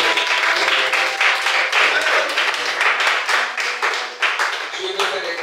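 A church congregation claps and applauds together in a dense, steady burst that lasts throughout, loud and close with voices mixed in.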